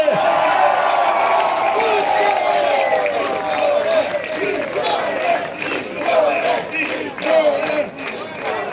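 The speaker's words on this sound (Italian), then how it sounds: "fatevi sentire un grande applauso" Audience at a concert claps and cheers loudly, a continuous crowd roar with a voice carrying over it that eases slightly toward the end.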